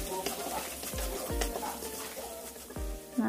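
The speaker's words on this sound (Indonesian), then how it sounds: "Kita tumis dulu" Kaffir lime leaves and spices sautéing in a pan for spicy squid, a steady close sizzle with a few sharp stirring scrapes and knocks against the pan.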